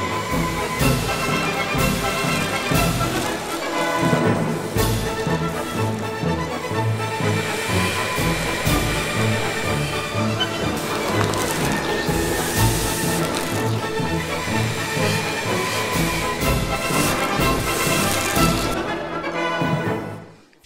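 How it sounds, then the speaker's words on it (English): A shop vac vacuuming debris off a residential lawn, a loud continuous motor roar with a rough, rattling suction texture that holds steady for the whole stretch before cutting off at the end; no talking. "If you got crap on your lawn and you want to vacuum it up, just pull out of the shop vac."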